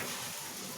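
Sinangag, Filipino garlic fried rice, sizzling in a pan, a faint, continuous crackling hiss throughout with no voices.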